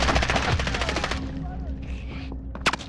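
Automatic weapon fire in Call of Duty: Warzone: a rapid, loud rattling burst of closely spaced shots that fades into a quieter stretch with scattered noises, ending on a sharp crack.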